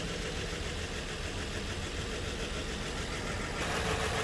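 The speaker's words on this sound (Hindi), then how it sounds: "Nissan Ultima V6 engine" A Nissan Altima V6 engine idles during misfire testing, giving a steady close-up mechanical hum with a dense, even texture throughout and no talking.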